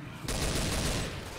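Sudden burst of gunfire erupts in the video game Left 4 Dead 2, a loud dense volley that starts abruptly and keeps going for about a second.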